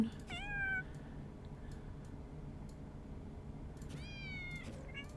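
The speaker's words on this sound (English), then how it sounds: "I do like all the cat sounds, though. There's like a different cat sound for each cat." Two quick video-game cat meows, one at the start and another near the end, over a quiet background with faint ticking.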